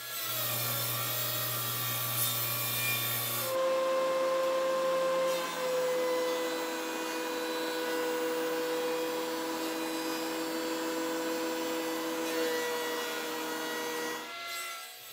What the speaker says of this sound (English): I'm cutting those strips about 1/2 inch thick for more of the 2x4